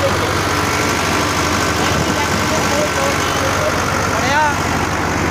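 A Sonalika Sikander tractor powers a Dasmesh multi-crop thresher, a loud, steady engine drone mixed with the thresher's continuous mechanical clatter and hum, with a person talking over it.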